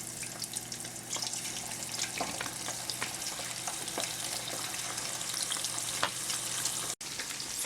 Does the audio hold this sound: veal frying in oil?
yes